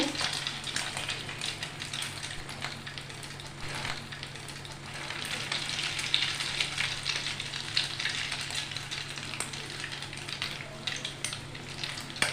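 Steady, close sizzling of food frying in hot oil, a continuous crackling hiss that carries on without pause and with no voices.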